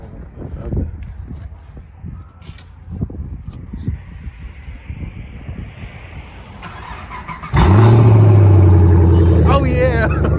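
A Chevrolet Camaro SS special edition with about 47,000 miles cranks and fires at roughly seven and a half seconds, then idles loud and steady with a rising rev toward the end. Footsteps and handling noises come before the start.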